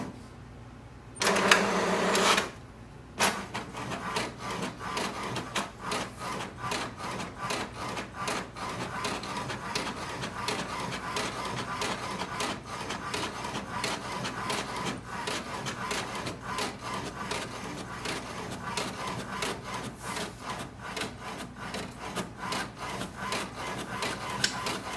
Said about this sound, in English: So click on the print button and wait for the printer.